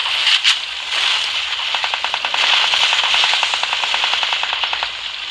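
Gunfire in the battle royale game Free Fire: a loud, close burst of rapid automatic shots rattles in a fast, even rhythm for several seconds after a couple of opening impacts.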